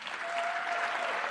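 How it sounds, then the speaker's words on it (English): Dense, steady applause from an audience at an arangetram ceremony, following Radhika's dance; the clapping fills the brief moment evenly with no pause or voices on top. "Let's please have one more loud round of applause for Radhu."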